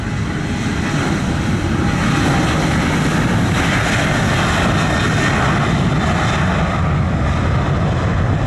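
An airliner takes off from the runway at Montego Bay airport in Jamaica, its engines giving a loud, steady roar across a broad band that holds throughout with no voices.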